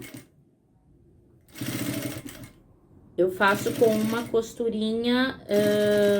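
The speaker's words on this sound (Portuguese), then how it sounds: "essa primeira costura, para aplicar o debrum, eu faço com uma costurinha" Sewing machine stitching a synthetic binding onto a passport holder, running in short bursts of rapid mechanical chatter between pauses, with a voice talking in between.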